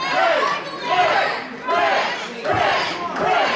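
A wrestling crowd at a tag team invitational roars and chants loudly and steadily for the wrestler called the gorgeous one, the noise surging in repeated waves.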